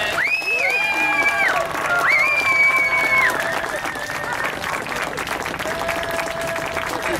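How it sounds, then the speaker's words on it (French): A crowd applauds steadily with scattered cheers and bravos, and a few voices call out over the clapping throughout. "Il y a des bravos et des applaudissements de l'ensemble des..."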